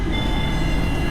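The Kacheguda Express, train 17604, rumbles along the rails in a short, loud, steady burst of close rolling noise.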